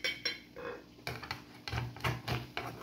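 Dishes and cutlery clink in quick, close, uneven taps while a plate of fried bagre catfish and rice with carrots is served.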